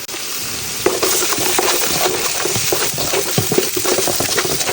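Nigerian fried rice with onions is stirred and flipped in a pan over low heat, giving a loud, close sizzle broken by repeated scraping and tossing clatters.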